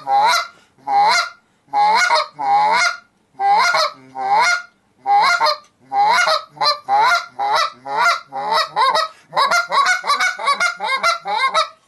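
A Notorious B.I.G. Half-Blood goose call blown in a rapid series of loud, honking notes, short bursts in quick rhythm, growing faster toward the end.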